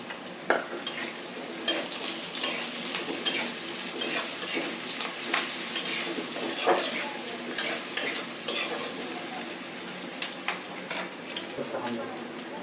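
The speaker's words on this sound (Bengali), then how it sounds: "এখন আমি হালকা করে একটু ভেজে নেব। দিয়ে দিলাম আমান রসুন" Crushed garlic sizzles and spits in hot oil in a pan while being stirred for a Bengali pangas fish curry, a continuous crackling hiss broken by repeated clanks and scrapes of the spoon, fairly close.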